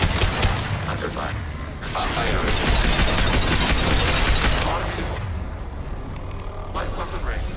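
Sustained gunfire and explosions fill a Mass Effect 2 firefight, dense and loud throughout with rattling shots and booms layered under voices talking.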